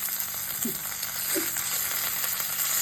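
Dried salted fish fries in a pan with a steady, close sizzle and crackle throughout, broken by a couple of faint clinks of a utensil stirring.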